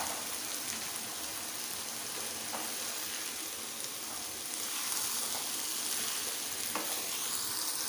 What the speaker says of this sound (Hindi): मसाला हमारा तैयार हो गया है, अच्छी तरह से भुन गया है। इसमें हम दाल को शामिल करते हैं।